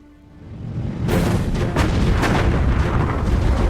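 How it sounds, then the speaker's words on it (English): Heavy naval gunfire from the German battleship Bismarck, a loud sustained rumbling roar with several booming blasts layered over dense low-end thunder, swelling up from quiet and holding at full intensity. "In less than 10 minutes, The massive guns of Hitler's superweapon have obliterated the pride of the British Navy"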